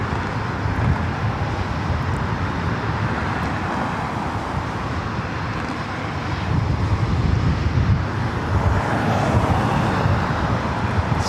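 A Boeing 787-9 Dreamliner jet on a flight to London Gatwick at Los Angeles airport produces a broad, fairly distant roar. The rumble swells slightly louder in the second half, with no talking.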